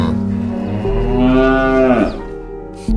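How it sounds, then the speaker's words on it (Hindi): A buffalo bellows loudly in one long, drawn-out moo that swells and then breaks off, with no other sound around it. "तभी उसकी भैंस जोर जोर से चिल्लाने लगी।"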